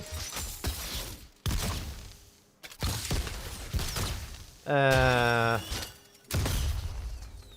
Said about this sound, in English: Firework gun, I guess, on Miss Kiraman.